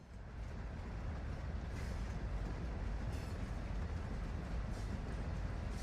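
A train ride in Call of Duty DMZ gives a steady, heavy rumble with a low rolling clatter. It is close and constant throughout, with no one talking.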